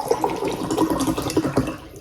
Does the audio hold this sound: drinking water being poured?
yes